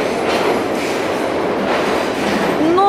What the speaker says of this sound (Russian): вот здесь станция метро очень слышно